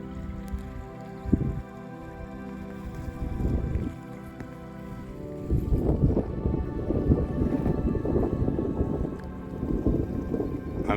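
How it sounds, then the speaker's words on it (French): Wind gusts across the open Aubrac plateau, buffeting in low, roaring bursts that come and go at first, then grow louder and more sustained in the second half. "Ça souffle. Le vent vient de loin."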